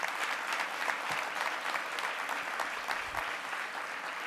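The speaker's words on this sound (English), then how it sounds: "so please give her a round of applause." An audience in a hotel ballroom at a New York women's awards ceremony at the Sheraton Times Square applauds steadily, dense clapping from many hands continuing throughout.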